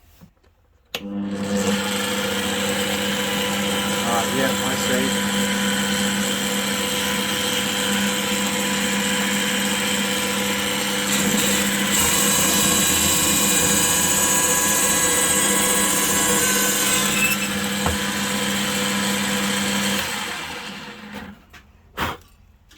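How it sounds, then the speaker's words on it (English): An Aldi Ferrex drill press motor hums and whines steadily for about twenty seconds, its pitch shifting as the bit bites, with a brief remark spoken at the end. "See if we can drill a hole where we mark it."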